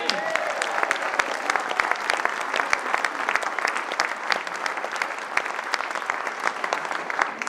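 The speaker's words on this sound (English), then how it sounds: "I think they deserve a round of applause!" A courtyard audience at a 2010 comedy folk band reunion fundraiser breaks into dense, steady applause, many hands clapping continuously and fairly loud for several seconds with no voices standing out.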